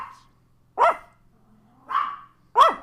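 Dogs bark three separate times, close and fairly loud, with quiet pauses between each bark.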